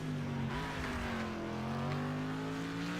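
A pack of racing cars in the video game Next Car Game, with engines droning together in a steady loud roar and a sustained high engine whine, alone without talk.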